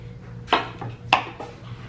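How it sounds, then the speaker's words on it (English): A knife chops the ends and green tops off fresh carrots on a cutting board, with two sharp close cuts and a few lighter taps between. "chopping the ends of the carrots and the tops to get them ready to be processed"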